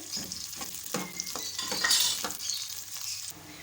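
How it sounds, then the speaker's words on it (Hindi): Onions frying in cooking oil for beef biryani make a close, busy sizzle broken by repeated scraping strokes of a spoon stirring in the pot, with no talking. "अब इस प्याज को फ्राई करेंगे सबसे पहले"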